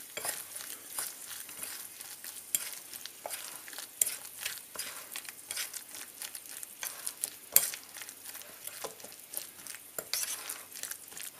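Brussels sprout bhaji batter being mixed, a steady run of wet stirring and scraping with small clinks and taps against the bowl, close and fairly quiet throughout with no talk.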